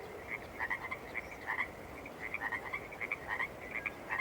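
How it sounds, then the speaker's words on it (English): Frogs croak at a pond that is filled unusually high, in a woodland evening setting near ice caves; a dense, steady chorus of repeated croaks pulses throughout at moderate distance, with no voices. "You can hear the frogs."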